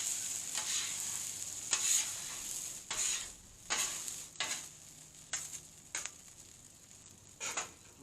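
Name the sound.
shrimp fried rice ingredients frying in a pan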